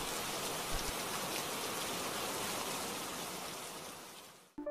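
Steady, dense rain pours down without a break, a loud hiss of drops on surfaces that cuts off abruptly near the end.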